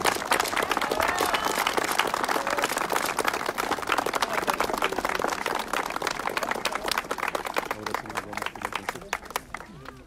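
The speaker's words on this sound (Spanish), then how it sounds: "Fuerte, fuerte el aplauso." Audience applause at an indigenous supreme chief's swearing-in ceremony in Zinacantepec, a dense continuous clapping that holds for about ten seconds and thins slightly near the end, with voices mixed in.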